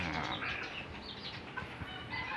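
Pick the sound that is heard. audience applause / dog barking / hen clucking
hen clucking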